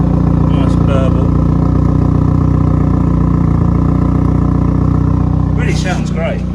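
A Hyundai i30 N running in N performance mode gives a loud, steady engine burble close by, with a short voice breaking in near the end.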